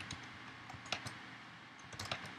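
Typing on a computer keyboard to enter a database grant command: quiet, irregular key clicks with a few sharper taps, close by and soft, with no voice over them.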